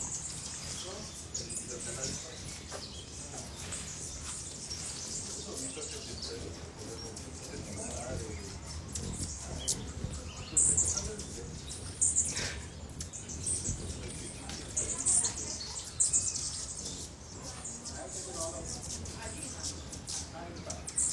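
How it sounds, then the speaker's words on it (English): Small high chirps and twitters from hummingbirds at a feeding spot in Colombia pop up intermittently over a busy outdoor background, with other birds calling and people talking nearby. "Can watch hummingbirds all my life."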